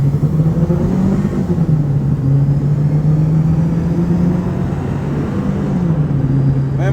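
Supercharged turbo car engine revving from inside the vehicle, a loud, continuous low rumble and whir with pitch rising and falling slightly as the revs shift, steady throughout with no talk.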